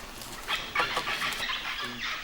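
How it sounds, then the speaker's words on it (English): Loud, harsh parrot squawks and calls in quick succession, several parrots calling close by with rough, raspy cries at an ancient Mayan city. "Can you hear the parrots?"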